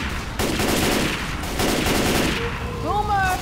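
Assault rifle fire in Left 4 Dead 2 rattles out in sustained automatic bursts, close and loud, with brief gaps between strings of shots and a short electronic chirp near the end.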